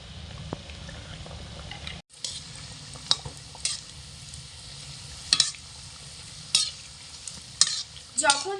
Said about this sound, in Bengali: মিডিয়াম আঁচে রেখে এইভাবে অনবরত নাড়াচাড়া করে তেলের মধ্যে জিলাপিগুলোকে একদম লাল টুকটুকে করে ভেজে নিতে হবে।